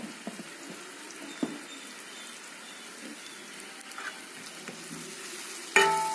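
Chilli powder, black pepper and a pinch of turmeric are stirred and mixed in a pan, making a faint low sizzle with occasional soft scrapes, then one sharp clatter near the end.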